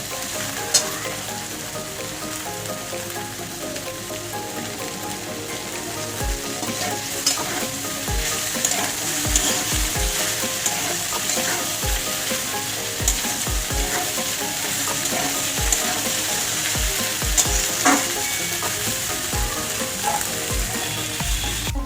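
Onion and green chillies frying in a pan, a steady dense sizzle with spatula scrapes and stirring clatter throughout, close and continuous with no talk.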